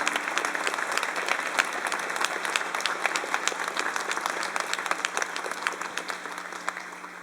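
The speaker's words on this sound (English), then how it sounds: "Can we have another round of applause for our wonderful speakers?" Sustained applause from an audience at a commemoration event honoring Lafayette in Fayette County, dense steady clapping throughout at an even level, tapering slightly at the end.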